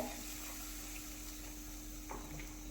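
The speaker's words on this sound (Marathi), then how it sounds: "छान असं दोन ते तीन मिनटासाठी हाय फ्लेमवरती शिजवून घ्यायचं आहे" Cashew masala frying on a high flame, a faint steady sizzle and bubbling with a few soft stirring scrapes, alone with no talk.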